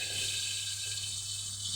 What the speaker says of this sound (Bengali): যতটা পাবো এই জল দিয়ে দিলাম।